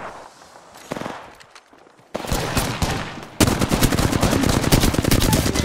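Gunfire in the Apex Legends battle royale game: sparse shots at first, then dense rapid automatic bursts that grow louder and nearly continuous, close and punchy.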